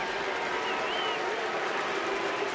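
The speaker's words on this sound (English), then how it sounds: "the U chant going up" Crowd noise at a Rangers–Tigers baseball game in Texas, a steady broadband roar of spectators with a chant rising through it, continuous and mid-distance across the stadium.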